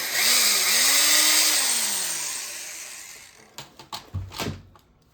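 A power drill spins up and whines steadily while boring into the wooden body of a Telecaster-style partscaster guitar, its pitch shifting under load. It then fades out and is followed by a few sharp knocks and clatters.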